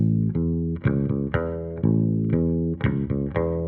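Bass guitar plays a simple triad line of quarter and eighth notes with no articulation, each note distinct and evenly plucked, close and clear with no voices.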